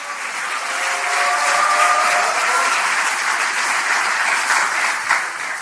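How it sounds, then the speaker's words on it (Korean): Loud, sustained applause from a large audience at a political party meeting, a dense wash of clapping that swells and holds evenly for several seconds without speech. "이재명 당대표님께 다시 한번 뜨거운 응원의 박수 부탁드리겠습니다."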